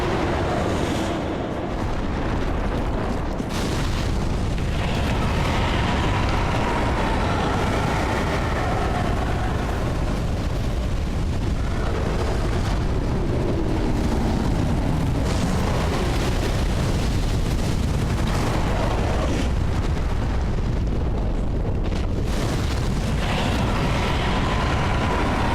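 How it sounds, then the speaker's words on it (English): A long run of loud, rumbling explosions in the video game Dark Souls 3, set in a swamp area. The booms roll and overlap continuously with no pauses. "All of the explosions followed me all the way to the door."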